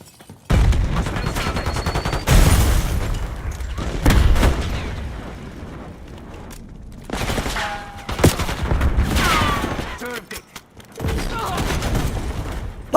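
A thrown frag grenade and rapid gunfire during a multiplayer shooter match with hardpoint objectives, heard as loud bursts, booms and distant shots, mixed with in-game radio voices and teammate chatter.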